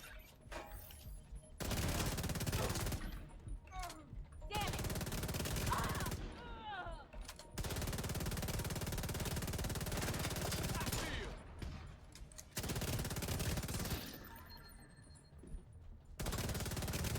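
Rapid automatic rifle fire in The Division 2, loud bursts of shots separated by brief pauses, with someone talking over the gunfire between bursts.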